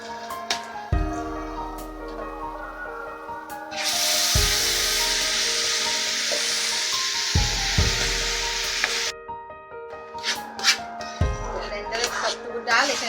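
Chana dal frying in oil with bay leaf, cinnamon, cardamom and cloves for a split-chickpea halwa bursts into a loud, dense sizzle midway, with stirring knocks and someone talking over it.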